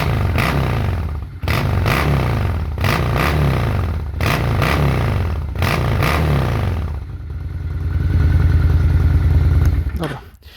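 A loud 2006 Honda VT 600 Shadow motorcycle engine idles and revs in repeated bursts, with rhythmic pulsing and a steady, rumbling run toward the end.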